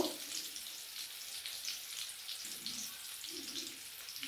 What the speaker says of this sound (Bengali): আমি আলুগুলো প্রথমে বেশ ভালো করে ভেজে নেব।